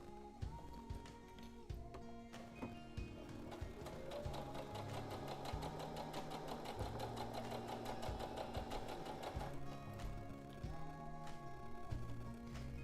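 A sewing machine runs a continuous basting seam along the edge of a pillow, a fast, even mechanical chatter that stays steady and close throughout, with brief slowdowns at the start and end.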